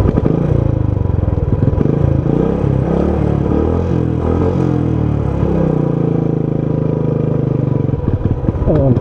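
A motorcycle that has been giving trouble runs steadily while being ridden on a trip from Punjab to Himachal Pradesh, its loud, continuous engine drone rising and falling with gear changes and clattering throughout.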